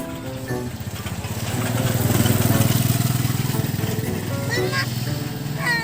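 A motorcycle passes close by on a road, its engine drone swelling to a peak midway and then receding, with a short honk-like chirp near the end and voices in the background.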